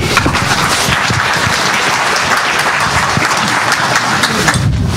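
Audience applause at the FOSDEM 2014 open-source conference as a speaker is welcomed to the stage: steady, dense clapping from a large crowd, close and loud, running unbroken for the whole stretch.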